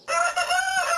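A rooster crows a single loud, close cock-a-doodle-doo, a sustained harmonic call lasting about a second with nothing else around it.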